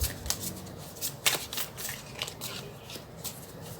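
Tarot cards being shuffled and drawn by hand, a quiet run of crisp riffling flicks and soft slaps in irregular bursts, close and alone.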